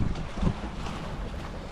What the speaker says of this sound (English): The wind is still kicking pretty hard,